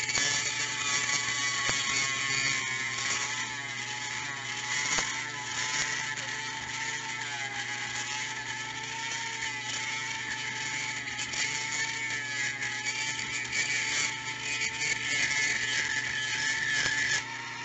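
A saw blade cuts through a brass lock security pin, a steady, continuous whirring rasp held at one level and close up, with no pauses and no voices.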